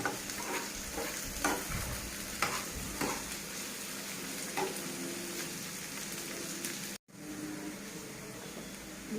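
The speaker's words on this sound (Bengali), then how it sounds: "এবার আমি ভাপ দেওয়া উচ্ছেগুলো দিয়ে দেবো। দিয়ে এইভাবে আমি নাড়াচাড়া করে ভেজে নিব।" Steamed bitter gourd stir-fried with already fried potatoes in a pan, giving a steady, close sizzle with repeated scraping stirs through the first half, continuing as a constant frying hiss afterward; no voices.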